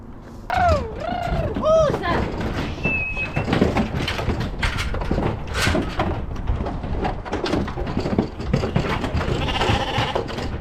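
Ram lambs bleating on a farm, several clear, rising-and-falling bleats early on, then mixed farmyard clatter and bumps with more scattered calls, fairly close and loud.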